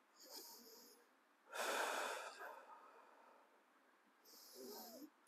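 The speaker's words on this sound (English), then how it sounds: "Just take a couple deep breaths." Deep breathing during a hamstring and back stretch, a few slow breaths, including one long forceful exhale, close and faint.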